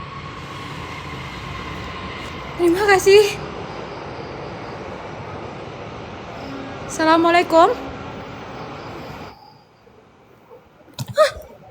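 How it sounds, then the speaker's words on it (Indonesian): A train passes on railway tracks behind a building, a steady, fairly loud rumble that lasts about nine seconds and then cuts out, with people talking over it. "Suara kereta api belakang sini"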